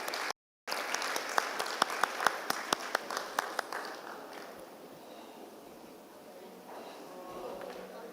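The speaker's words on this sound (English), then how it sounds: "A huge round of applause for these faculties from Bhopal." Audience applause for faculty at a fashion design mentoring event, a dense patter of clapping with a few sharper claps that gradually thins and fades.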